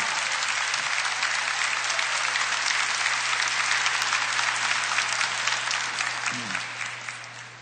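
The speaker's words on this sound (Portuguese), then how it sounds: "por favor, não aplauda agora" Church congregation applauding a priest during a Portuguese-language Catholic talk on consecration to Our Lady, a dense steady roar of many hands clapping that carries on for several seconds before gradually tapering off at the end.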